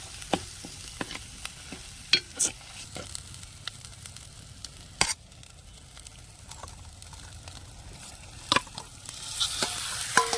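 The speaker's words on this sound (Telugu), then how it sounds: "ఆ మసాలా ముద్దనంతా ఇందులో వేసేసి కలిపేసుకుందాం" Ground masala paste is stirred into a pan for a country chicken curry, a low sizzle broken by clear spoon scrapes and knocks against the pan at an irregular pace, with the frying growing slightly louder near the end.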